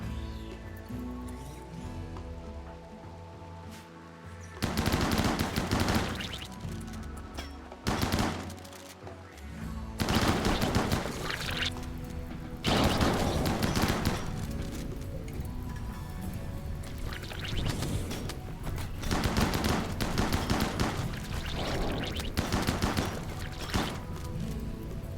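Gunfire in a RimWorld raid: several long bursts of dense, rapid shots that start and stop abruptly, loud and continuous for stretches, over a steady game background with no clear talk.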